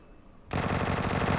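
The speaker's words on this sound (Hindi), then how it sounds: "किसने गोली चलाई भाई?" After a brief quiet moment, a sudden burst of rapid automatic gunfire in the video game PUBG Lite erupts and continues in a fast, loud, dense rattle until the end.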